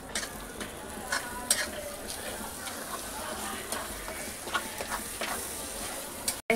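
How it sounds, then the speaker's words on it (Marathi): Spices being stirred and mixed into food in a pan, with scattered scraping and clicking strokes over a low, steady sizzle from close by. "आता ह्याला मी एकत्र करून मिक्स करते"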